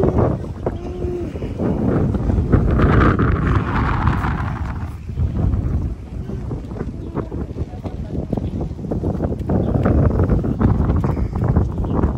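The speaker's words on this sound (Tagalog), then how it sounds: "malakas naman ang hangin" Strong wind gusting by the sea at Yeliu Geopark, a steady loud rushing roar buffeting the microphone throughout, with a voice talking over it.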